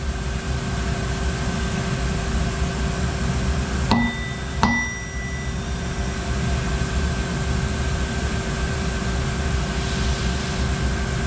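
A hammer strikes a shaft flange twice in quick succession to flatten it, two sharp metallic blows with brief ringing, heard over a constant loud machinery drone.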